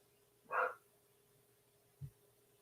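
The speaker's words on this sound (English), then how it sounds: "I am going to go run upstairs and figure out what on earth my dog is barking at" A single faint dog bark sounds from upstairs in a quiet indoor room, followed after a pause by a soft low thump.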